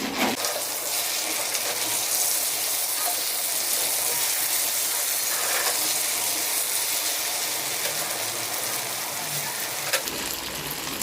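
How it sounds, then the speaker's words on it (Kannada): Chicken malai kebab fries in a pan with a steady, bright sizzle that holds at an even level throughout, with a few faint pops and a small clatter near the end. "ಒಂದು 5 ಮಿನಿಟ್ಸ್ ಇದೇ ಥರ ಫ್ರೈ ಆಗಲಿ"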